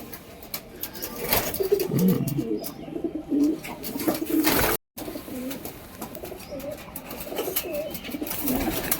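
Pigeons coo repeatedly at close range in a home loft, soft throaty phrases that rise and fall over a steady background hiss, with one brief dropout midway.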